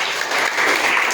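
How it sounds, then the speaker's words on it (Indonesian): A short burst of dense clapping from a classroom group, loud and close, lasting only about a second with no voices. "Tepuk tangan"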